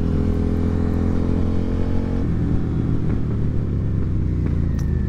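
A third-generation Suzuki SV650 motorcycle engine hums steadily while riding down the road, a loud close-up drone with a shift in pitch around two seconds in and a constant low rumble throughout.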